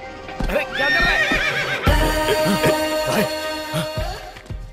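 A horse neighs and whinnies loudly and close, with hoof clip-clops and a busy dramatic scene around it in a Hindi-dubbed action film.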